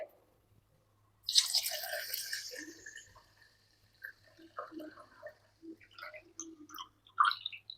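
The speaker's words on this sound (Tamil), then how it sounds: "சர்க்கரை மூழ்கிற அளவுக்கு தண்ணி ஊற்றிட்டோம்" Water is poured over sugar in a pot while making rava laddu, giving a close splashing pour followed by scattered drips and small clinks in otherwise quiet surroundings.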